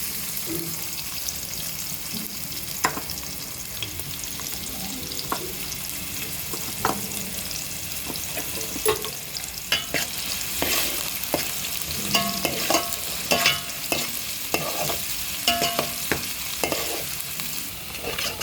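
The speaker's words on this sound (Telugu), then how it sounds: "ఇప్పుడు ఉల్లిపాయ పచ్చిమిరపకాయలు కోసుకొని పెట్టుకున్నాను, అవి వేసుకున్నాను." Chopped onions and green chillies fry loudly in hot oil in a pan, a constant dense sizzle punctuated by repeated stirring clinks and scrapes of a utensil, close and without any talking.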